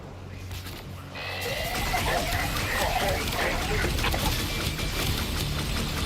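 A horse neighs in the Warframe video game, a whinny rising over busy game sounds with a person talking throughout.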